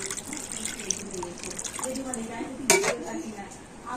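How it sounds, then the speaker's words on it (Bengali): Cold water is poured into a bowl of raw green mangoes while making candy, a close splashing trickle with light clinks of the bowl, and a voice talks over it. "আর এই আমগুলোর মধ্যে তো একটু আমি ঠান্ডা জল দিয়ে দিচ্ছি"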